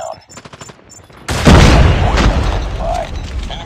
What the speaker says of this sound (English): Enemy sentry gun has been destroyed.